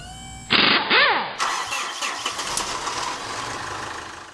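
A 2013 Mitsubishi Fuso FG truck's 4P10 diesel engine cranks slowly, loudly and roughly, the starter grinding on for several seconds without the engine catching into a smooth idle.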